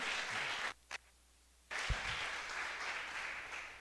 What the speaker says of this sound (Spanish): Amor, denles aplauso al Señor.